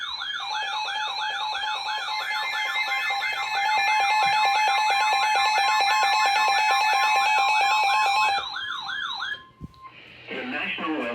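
A loud Emergency Alert System alarm tone, the steady two-tone warble broadcast ahead of a special marine warning for Long Island Sound, sounds continuously for about eight seconds, then cuts off into a brief burst of noise.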